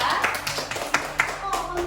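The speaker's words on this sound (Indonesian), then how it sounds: "Tepuk tangan dulu ya untuk kelompok 2" A classroom gives a student group a short round of applause: a few scattered, fairly close hand claps over about two seconds.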